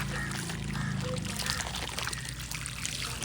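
Water poured onto hot fired brick walls in a kiln, giving a continuous hissing, splashing wash of sound close by, with a voice briefly audible.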